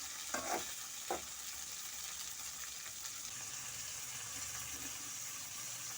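Tomatoes frying with rock salt in a pan for a field crab gravy, a steady faint sizzle with a couple of soft stirring scrapes near the start, no talking.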